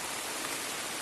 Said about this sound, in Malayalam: മഴ എത്തിപ്പോയി കേട്ടോ